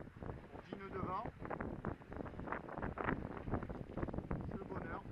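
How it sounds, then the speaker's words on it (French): Sailboat under sail at sea around the Balearic Islands, making about four knots: steady wind buffeting and water rushing against the hull, with people talking throughout. "On est parti à la voile. On marche à 4 nœuds, là, environ."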